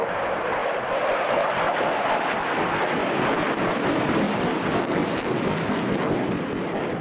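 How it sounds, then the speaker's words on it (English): Aeroplane roaring continuously through a flying display at the Farnborough International air show, a loud sustained engine noise mixed with wind buffeting. "It's giving a display that's making everyone who sees it realise what a great aeroplane it is."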